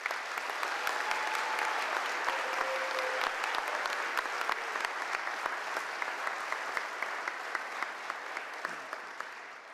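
An audience applauds at a police academy graduation, sustained dense clapping filling the hall for about ten seconds, fairly loud and even, with scattered louder individual claps standing out and tapering slightly at the end.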